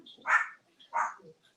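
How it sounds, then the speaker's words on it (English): A dog barks twice, a pair of sharp close barks separated by a short pause, with faint quiet between them and no talking. "The dog doesn't want to hear Glenn."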